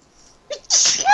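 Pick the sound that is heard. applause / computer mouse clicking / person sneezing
person sneezing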